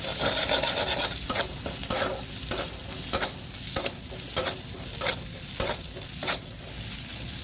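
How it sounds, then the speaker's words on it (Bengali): Onion frying in a generous amount of oil in a pan, with a steady loud sizzle broken by regular sharp scrapes of a spatula stirring, about one every half second to second, close and with no voices. "এখানে পেঁয়াজটা ভেজে নিচ্ছি"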